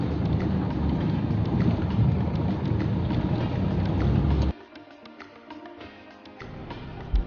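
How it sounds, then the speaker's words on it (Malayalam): Heavy rain pours steadily during an unexpected low-pressure storm on a trek route near Sakleshpur and Mudigere, a loud dense hiss that suddenly drops to a thinner, quieter patter of drops for the last few seconds. "നല്ല മഴയാണ്"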